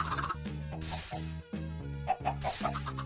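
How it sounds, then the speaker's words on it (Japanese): Chicken in the Minecraft video game clucks in a steady run of short repeated calls, clear and fairly close, layered over looping game background music. "まあ、ニワトリさんにね、種あげればいいんやけど"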